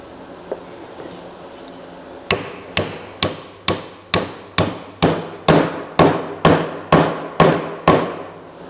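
A hammer drives dowel pins into the side of a wooden joint on an old toddler rocking chair, striking about fourteen sharp, evenly spaced blows close by after a single early tap.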